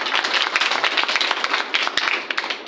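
An audience claps for presentation participants at an institute event, a dense, steady patter of many hands with sharp individual claps standing out, fairly close and continuous throughout.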